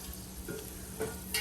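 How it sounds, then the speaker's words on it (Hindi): Fenugreek seeds and two dried red chillies frying in smoking-hot oil, a soft steady sizzle with a few stirring clinks and scrapes, close and without talk. "तो ये मेथी अच्छे से भुन गई है।"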